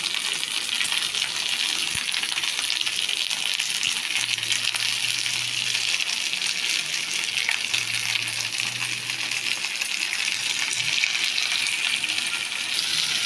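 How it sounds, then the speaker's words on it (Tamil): Curry leaves and fish frying in oil on a dosa pan, a continuous bright sizzle with a few faint clinks and low hums, steady and close without any talking. "இப்போ வந்து தோசைக்கல் எண்ணெய் ஊற்றி காஞ்சிருச்சு. முதல்ல கருவேப்பிலையை போட்டுக்கலாம்."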